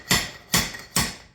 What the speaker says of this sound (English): Could even just do the slide hammer action.